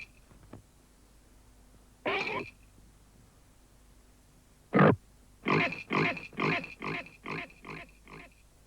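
A pink pig grunts in short, loud bursts: one grunt, a pause, then a rapid run of about six oinks close up, with no voices.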